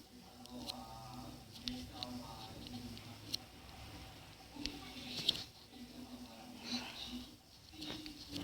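Farm animal calls from a horse in a survival video game, faint and intermittent, with soft footstep-like patter and a quiet voice murmuring underneath.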